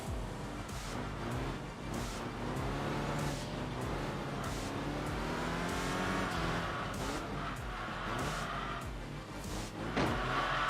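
Turbocharged race car engine in Enthusia Professional Racing, a sustained loud engine note rising and falling through gear changes, with tire squeal and other cars close by.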